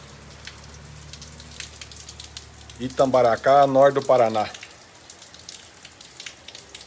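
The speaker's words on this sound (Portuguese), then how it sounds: "Mostra a chuva lá em Tambaracá, norte do Paraná" Heavy rain falls steadily in northern Paraná, Brazil, a continuous hiss that runs through the whole stretch, with someone speaking over it briefly in the middle.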